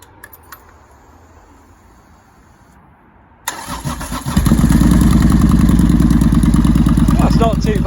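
A Triumph Thunderbird Storm motorcycle engine with slip-on exhausts cranks and fires up, then settles into a loud, steady, throaty idle close by after a few quiet seconds of background.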